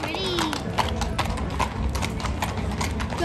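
At the Royal Queensland Show, horses' hooves clip-clop in a steady run of thuds over crowd noise, with a short whinny near the start and people talking throughout.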